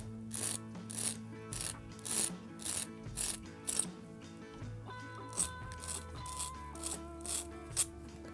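Fishing hook drawn along the groove of a Dr. Slick hook sharpening cone on its heaviest grit: about eight short, even rasping strokes in a steady rhythm, close up over soft steady tonal music.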